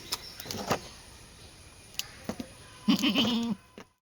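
A goat bleats loudly in one wavering call near the end while being milked on a goat farm, with scattered clicks and small knocks earlier and quiet moments between.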